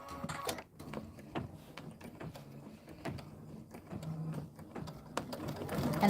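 A sewing machine quilting a small fabric mug rug: irregular mechanical whirring and clicking with gear-like pulses, moderately quiet and close, running alone without talk.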